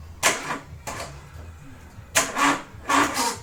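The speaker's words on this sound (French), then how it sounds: "Ça fait bien le bruit habituel des moteurs qui ne veulent pas démarrer parce qu'on a une batterie un petit peu faible." A car engine with a weak battery cranks but fails to start, in two separate bursts of laboured starter grinding with a pause between, close and fairly loud.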